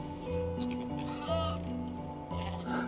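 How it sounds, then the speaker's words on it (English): Sheep bleating in the Rimworld video game, several overlapping wavering bleats close up, one after another with hardly a pause. "Look at all the sheep"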